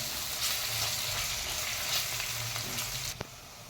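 Onions and ginger-garlic paste sautéing in a pan for tomato rice, a steady, close hiss of frying that runs throughout and ends with a brief utensil clink.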